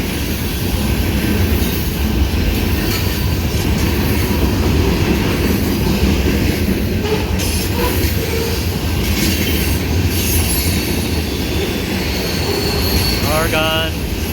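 Freight train hauling old boxcars rolls steadily past, a loud, continuous rumble of wheels with faint clicks and a brief squeal of wheels near the end.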